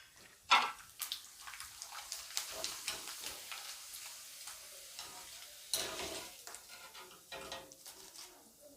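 Sun-dried potato wafers fry in hot oil, giving soft bubbling sizzle with sharp crackling bursts, one loud splash-like pop at the start and another midway, fairly faint overall.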